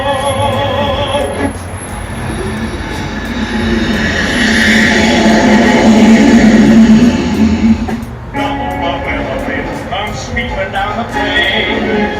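A fixed-wing airplane passes overhead on the approach path near San Diego International Airport, a loud broad engine roar that swells and peaks around the middle, then eases, with people talking in the background.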